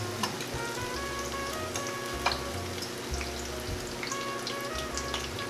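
Battered fish and vegetables seasoned with turmeric, curry and garlic deep-fry in a pot of oil, a continuous dense sizzle with scattered crackles and pops, steady and close, with no talking.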